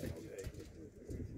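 Pigeons cooing at a bird market, including Russian satinette breeds, give low, close, repeated coos under constant nearby chatter from traders and buyers.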